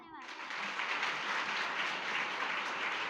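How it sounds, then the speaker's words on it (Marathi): Audience applause at a Jijau birth anniversary celebration, a dense sustained round of clapping from a crowd, moderately distant, starting abruptly and holding steady. "अजून एकदा जोरदार टाळ्या झाल्या पाहिजेत"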